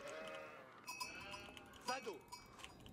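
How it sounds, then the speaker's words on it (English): Sheep bleat in the Age of Empires 4 video game, several overlapping calls rising from a busy layer of game sound, with a couple of more prominent bleats near the middle, under a steady mix of in-game effects. "Oh, so much sheep."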